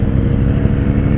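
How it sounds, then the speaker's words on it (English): A 2017 KTM 1290 Super Duke R motorcycle's big engine runs with a deep, throaty, steady rumble, loud and close, with no voices over it. "Sounds very throaty, this KTM."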